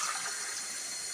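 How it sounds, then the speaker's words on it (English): Water rinses through the milk system of a Saeco Cappuccino Royal coffee machine, a steady close rush of running water lasting about a second with no talking. "I'm going to give the milk one a rinse because that's all it's going to need."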